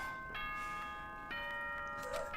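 A school announcement chime in Danganronpa, a clear bell-like ding-dong of sustained steady tones with a few soft taps, faint and alone.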